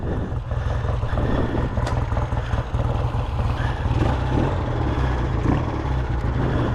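A 1965 Triton cafe racer motorcycle pulling away, its engine a steady, low throbbing rumble that holds even and fairly close throughout with some wind noise.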